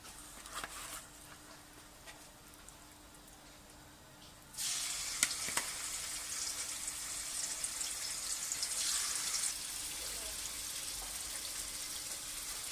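Chicken drops into hot oil with red chilies and spices for a fenugreek chicken karahi. A soft background hiss suddenly jumps into a loud, steady sizzle that continues with bubbling crackles.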